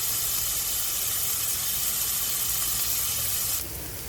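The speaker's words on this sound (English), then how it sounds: "Once the oil is hot, we'll add finely chopped garlic." Three big cloves of finely chopped garlic sauté in hot oil with a steady, loud sizzling hiss that continues unbroken, then drops slightly near the end.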